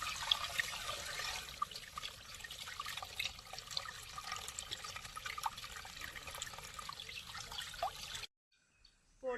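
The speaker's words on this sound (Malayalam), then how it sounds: "ഇനി നമ്മൾ ഇതിൽ പതുക്കെ ഇങ്ങനെ വെള്ളം ഒഴിച്ചു കൊടുക്കുക." Water trickles and splashes slowly into a water lily pot in a garden, a soft continuous pouring close by that stops abruptly near the end.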